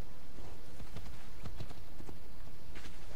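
Rhythmic clopping of horse hooves in the video game Assassin's Creed Odyssey under a dense, loud wash of background noise, steady and close.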